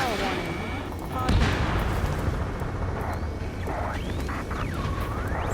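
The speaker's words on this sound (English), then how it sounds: "Gunfire and the roar of jets echoing through the streets." Dense rattling gunfire and booming blasts mix with roaring jet passes sweeping overhead in a video game, Operation Gorgon, a continuous loud battle din with electronic-sounding sweeps.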